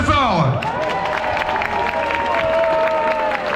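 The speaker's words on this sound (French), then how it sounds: "on peut les applaudir très fort" Crowd at an outdoor rally applauding volunteers, with clapping and cheering throughout under amplified talk and tonal voices, moderately loud and close.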